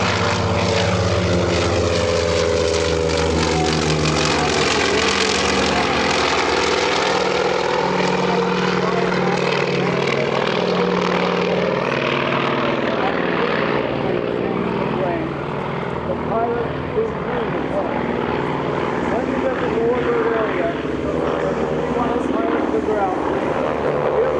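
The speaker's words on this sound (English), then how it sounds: "a series of aircraft that are the Warbirds of different categories and types and are taking to the air" Propeller warbird aircraft taking off at EAA AirVenture, a steady loud droning engine roar that holds throughout and slowly shifts in pitch, with someone talking over it.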